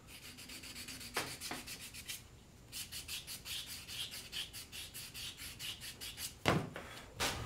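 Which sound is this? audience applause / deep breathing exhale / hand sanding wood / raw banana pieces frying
hand sanding wood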